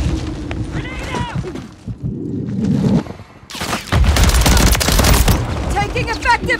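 Gunfire in the Call of Duty Modern Warfare video game, heavy loud bursts in a dense combat mix with shouted voice lines layered over the shooting.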